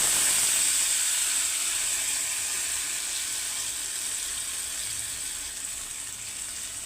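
Green chilies and curry leaves sizzle in hot oil with a steady, bright hiss that holds evenly and fades slightly over several seconds, close by and without any voices.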